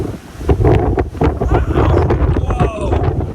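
Strong gusty wind battering a microphone at Cooks River Bridge, Kyeemagh, just outside a tunnel, loud uneven rumbling buffets with a voice faintly mixed in.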